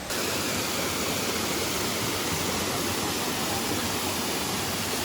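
Waterfall at Phu Kradueng in Thailand, a dense, constant rushing roar of falling water heard up close and steady throughout, with no voices over it.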